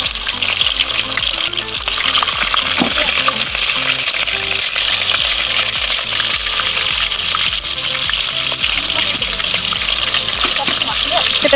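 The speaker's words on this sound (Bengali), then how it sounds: "মা বসে পড়েছে ইলিশ মাছগুলোকে ভাজতে" Hilsa fish fry in oil in a nonstick pan at a rooftop picnic, a loud continuous crackling sizzle close by, with a person speaking over it and a pulsing background beat.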